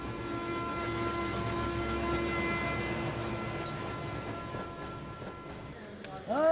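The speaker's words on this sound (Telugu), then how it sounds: "అందరు ఇండ్రి ట్రైన్ అర్ధ గంట వరకు ఇన్నే ఉంటది" A train sits idling at a station halt, a steady low rumble and hum with faint tonal lines underneath, ending in a louder rising squeal or horn-like burst near the end.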